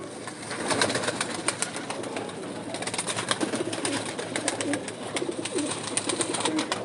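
Rooftop pigeons coo softly and repeatedly over a steady outdoor background, fairly close, with no talk.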